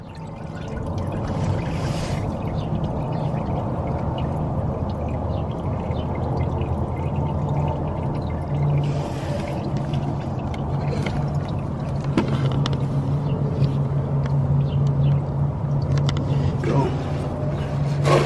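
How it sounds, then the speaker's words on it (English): Engine oil pours steadily from a 2016 Honda Civic into a drain pan, a continuous soft trickle and splash heard under low background rumble, with a few faint clinks. "Let the oil drain"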